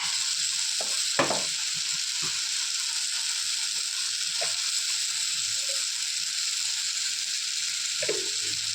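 Chili powder and garam masala are stirred into a hot pan of frying onions, giving a constant sizzle broken by a few sharp spatula scrapes and clicks, with no talking.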